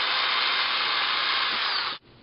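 A power drill with a 3/32 bit boring a small vent hole through a plastic cap lid, one steady high whine for about two seconds that cuts off abruptly, close up, no voices.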